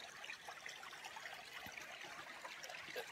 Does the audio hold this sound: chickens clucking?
no